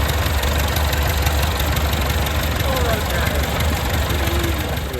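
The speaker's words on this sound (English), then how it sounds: "we'll fire it up and check the steering" A Massey Ferguson tractor engine runs at a steady low idle, loud and close, a continuous diesel rumble with faint voices underneath.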